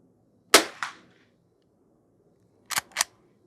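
Two pairs of sharp rifle shots from a Henry H001 lever action rifle firing bulk .22 ammunition at targets outdoors, each crack followed by a quick echo, the pairs about two seconds apart and no talk heard.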